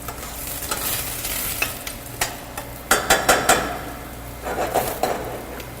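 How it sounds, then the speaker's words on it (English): Onions sauté in a pan with melted butter for a polenta casserole: a low background sizzle with a few clustered clinks and scrapes of a utensil stirring against the pan. "I'm going to go ahead and add the onions. We're going to saute those for just about a minute."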